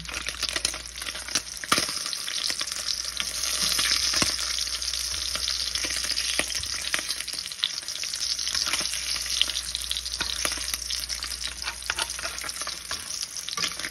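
Spam frying in a pan of hot oil, a continuous close crackling sizzle with scattered pops and occasional stirring scrapes, no talk.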